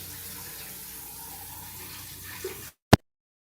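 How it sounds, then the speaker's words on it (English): Running water from a tap rinses out a French press, a steady close hiss that stops abruptly, followed by a single sharp knock. "Rinsing out my French press, waiting for your comments."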